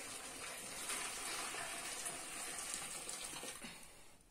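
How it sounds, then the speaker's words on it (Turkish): Water pouring steadily into a pot of red meat stew cooking over a wood fire, a continuous gushing splash that tapers off near the end, fairly faint and with no talk. "Suyunu ilave edecek annem."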